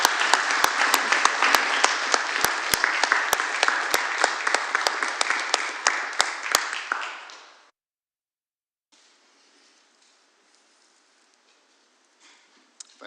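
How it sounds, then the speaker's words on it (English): Applause at a city council meeting, a full room clapping steadily for about seven seconds before stopping abruptly, followed by near silence and faint room noise. "How about one more round of applause?"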